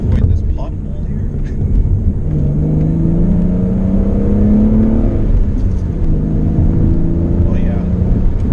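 BMW E39 528i engine rumbling and rising in pitch as it downshifts on the road, steady drone under wind noise with someone talking over it.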